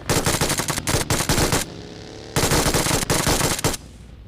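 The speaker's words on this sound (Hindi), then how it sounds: "मैं सबसे पहले एक गन से मारना चाहता था ड्रॉप शॉट" Automatic gunfire in the BGMI battle royale video game, with two loud sustained bursts of rapid shots separated by a brief lull.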